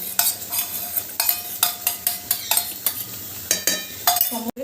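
Mutton being stirred and sautéed in a pot for biryani, with a spoon scraping and clinking against the metal in quick repeated strokes over a soft sizzle, close up and without voices.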